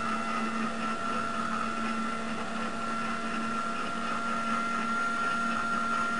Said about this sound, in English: LT30 motor up.